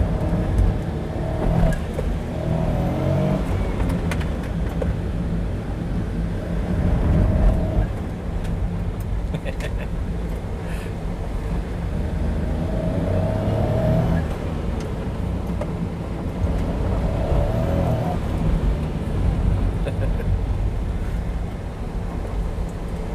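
A restored kei car with a homemade suspension mount, heard from inside while driving, a steady engine drone and road rumble with wind noise and occasional rises in revs.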